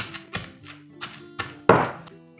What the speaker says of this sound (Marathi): अशा प्रकारे आपण ह्याला छान असं कुटून घ्यायचं आहे